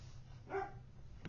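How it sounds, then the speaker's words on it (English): A single faint bark from a dog somewhere off at a distance, over quiet low hum, followed by a tiny click. "I don't know why she's barking."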